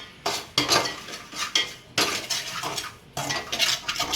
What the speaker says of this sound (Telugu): ఇప్పుడు ఉప్మా రవ్వ కూడా వేయించుకుంటాం